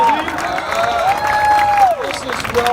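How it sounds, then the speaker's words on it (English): A crowd applauds and cheers as the cast and crew of ROBOCOP walk up at a Dallas event, with steady, dense clapping over which a voice keeps talking. "Give them a round of applause as they make their way up."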